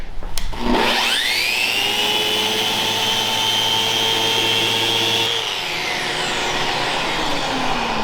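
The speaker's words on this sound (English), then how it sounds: "Everybody loves sanding." A power sander on a multifunction workbench top whines loudly and steadily at close range, holding one high pitch before winding down as it switches off.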